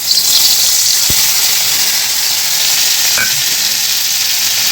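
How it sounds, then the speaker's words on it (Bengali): Ground kharkol leaf paste mixed with turmeric hits hot oil in a wok, making a loud, steady sizzle with a couple of sharp clicks from a stirring utensil. "এবার ভেজে আসছি।"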